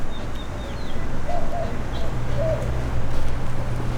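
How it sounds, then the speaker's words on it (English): Pigeons in Old Town Albuquerque coo softly a few times over a low, steady outdoor hum, close by but faint, with no talking. "If you can count on one thing anywhere in the world, it's pigeons."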